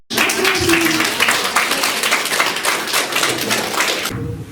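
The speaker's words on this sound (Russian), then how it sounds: "Давайте попросим, похлопаем." An audience at a public meeting in Yakutia about gardeners' rights breaks into dense, sustained clapping for about four seconds, loud and close, then stops abruptly.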